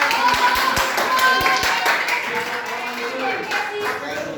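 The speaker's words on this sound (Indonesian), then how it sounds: "kalau gitu tepuk tangan buat kelompok Pasar" Classroom applause for a student group during a lesson, a brief run of close hand claps at the start, then softer scattered clapping mixed with room murmur and voices.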